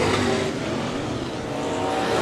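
Modified race cars roar through turns 3 and 4 at Raceway Park, a loud, continuous engine blare with no break, several cars close together on the oval.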